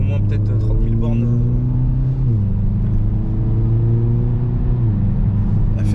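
Engine of a 2022 Kia ProCeed GT with 204 hp, heard from the passenger seat while driving: a loud, steady droning hum that steps down in pitch twice, like gear changes.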